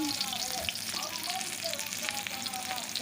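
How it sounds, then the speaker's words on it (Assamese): Onions frying in a hot pan give a steady, close crackling sizzle with dense high hiss, unbroken for a few seconds and with no voices. "এতিয়া চৰুটো গৰম হৈ গ'ল। তাৰপিছত মই পিঁয়াজখিনি বহাই দিম।"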